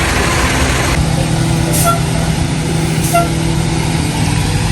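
An RV towing a car rolls along the road ahead of a hurricane, giving a steady loud engine drone and broadband road rumble throughout with no talk.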